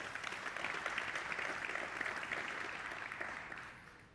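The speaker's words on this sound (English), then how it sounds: "one more massive round of applause for Alexander Usyk" Audience applause for boxer Alexander Usyk at a sports summit, a dense sustained wash of clapping that holds steady for a few seconds before tapering off at the end.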